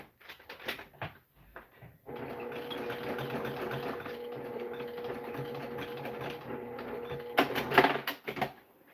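A domestic sewing machine runs steadily through free motion quilting, a continuous mechanical whir that holds for several seconds, framed by a few short clicks and handling knocks at the start and end.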